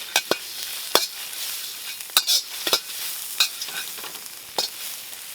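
Food frying in a pan is stirred with a utensil, making close, sharp scrapes and clicks at an irregular pace over a faint background sizzle.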